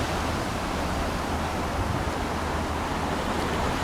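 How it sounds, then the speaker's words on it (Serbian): Ocean surf rolls in near the Golden Gate Bridge in San Francisco, a steady wash of broadband noise that stays loud and even throughout with no voices. "Evo ga talas."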